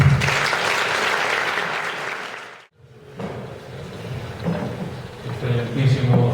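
University audience at a keynote lecture applauding to welcome a speaker, a dense burst of clapping that cuts off abruptly, then a quieter stretch of room noise with scattered sounds.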